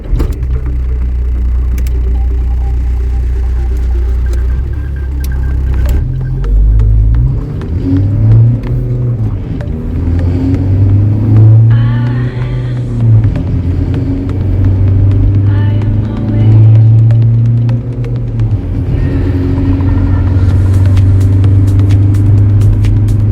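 A 1999 VW Caddy SDI suction diesel pulling away and accelerating, its low engine drone rising and falling in pitch through the gears for the whole stretch, steady and fairly loud with a voice talking over it at times.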